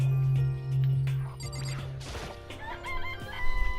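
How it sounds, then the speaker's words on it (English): Chickens in the video game Danganronpa give a loud rooster crow followed by a run of clucks, sounding close over game music and effects. "This place even has chickens, huh?"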